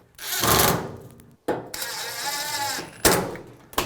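A power screwdriver drives screws back into the front panel of an Electrolux dryer, model EFME527UIW0, in three loud, close whirring bursts separated by brief pauses, with no talking.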